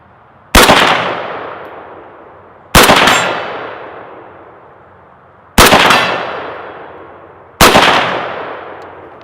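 Four loud AK rifle shots fired at targets while emptying the magazine, each a sharp crack with a ringing decay, spaced roughly two to three seconds apart with no talking.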